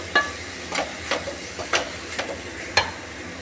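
Beetroot stir-fry sautéing in a pan, a rhythmic series of six or seven scraping stirs over a soft continuous sizzle, near and moderately loud without voices.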